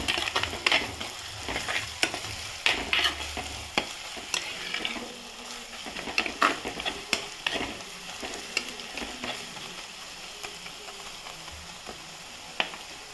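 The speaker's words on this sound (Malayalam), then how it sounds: "മസാല ആഡ് ചെയ്തു ഇളക്കി കൊടുക്കാം" Masala is stirred into browned onions in a pan for a Kerala-style egg roast, with repeated spatula scrapes and clinks over a soft, uneven sizzle, close and fairly quiet.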